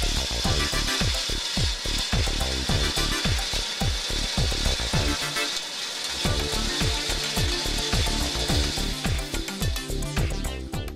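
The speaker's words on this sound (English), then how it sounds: "Powerful saw blade drive ensures outstanding cutting results at all cutting speeds." A MEBAsteel 1100 DGA semi-automatic bandsaw cuts metal with a continuous mechanical whine and rapid rhythmic knocking from the blade drive, steady and fairly loud throughout, with no speech.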